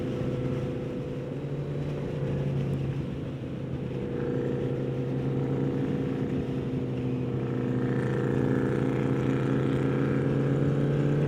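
A triple-cylinder motorcycle being ridden gives a continuous, moderately loud engine drone with steady low harmonics, shifting slightly in pitch as speed changes, with wind rushing alongside.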